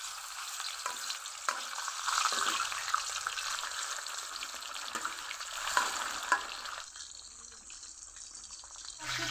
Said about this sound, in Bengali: তেল গরম হয়ে গেছে, মাছ ভেজে নিব।